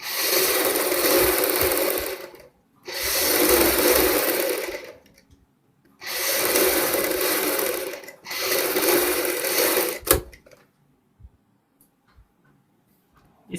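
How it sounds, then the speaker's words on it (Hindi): A sewing machine stitches fabric together with buckram for a Punjabi suit collar, running in four steady bursts of a few seconds each, separated by brief pauses, then going quiet apart from small clicks. "अब हम इस कपड़े को इस तरीके से एक साइड लेते हुए यहाँ पे सिलाई लगाएंगे बुकरम के साथ साथ।"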